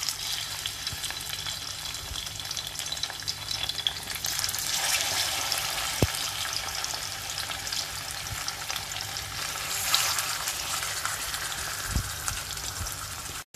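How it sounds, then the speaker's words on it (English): Katla fish shallow-frying in hot mustard oil gives a steady, loud, dense sizzle with a few sharp pops, and no talking. "Once the oil is hot, I will start putting the fish into it for frying."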